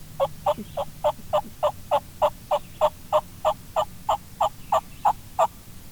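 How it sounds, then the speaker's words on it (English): An eastern wild turkey gobbles in a long, rapid run of about sixteen sharp, evenly spaced pulses, loud and clear over a quiet outdoor background. "is to absolutely get him a long gobble like 8 times in a row"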